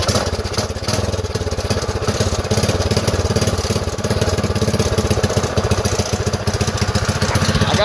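A Predator 212 small engine with a Mikuni carburetor and stage 1 kit starts and runs roughly, a loud close rapid chugging idle with uneven pulsing throughout.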